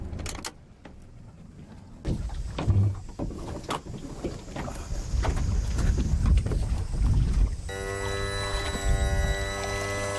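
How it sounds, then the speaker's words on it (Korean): A small motorboat pulls in to dock at a pier near a fishing-village church, its engine droning and rising in loudness as it closes in, with a few thumps and wind buffeting the microphone, then a steadier tonal hum as it settles. "능숙하게 배를 접안하시는 최 목사님"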